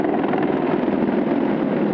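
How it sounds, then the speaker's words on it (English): A steady, loud rotor drone from Army Apache attack helicopters on a flyover fills the clip, continuous and unbroken with no voices. "Their Apache helicopters are nicknamed the Guardians."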